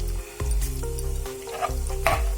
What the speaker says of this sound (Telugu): కొద్దిగా పప్పులు వేసుకుందాము వీటిని ఫ్రై చేసేసుకొని అలాగే కొద్దిగా ఆవాలు